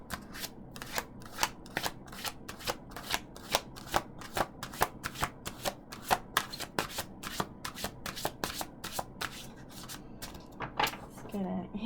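Tarot animal spirit cards are shuffled in a fast, steady rhythm of crisp riffling slaps, close and continuous, with a voice talking softly underneath.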